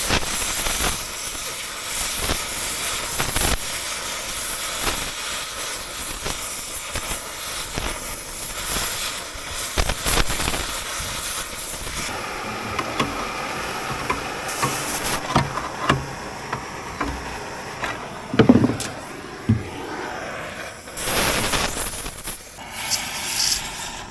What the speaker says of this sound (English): I'm basically just torching the welds, washing them is what it's called for you non-welders.